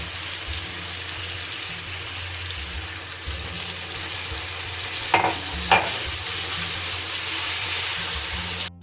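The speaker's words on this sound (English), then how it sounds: "I'm going to add now the chopped tomato." Chopped tomato tipped into meat cooking in a pan and stirred, a steady close sizzle with a brief louder burst of wet hissing and scraping midway, no voices.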